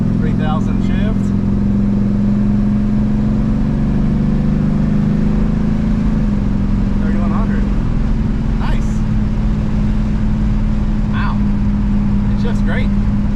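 A Pontiac LeMans with a freshly rebuilt transmission pulls away under light throttle, its engine a steady loud drone that drops in pitch at a shift, heard from inside the car.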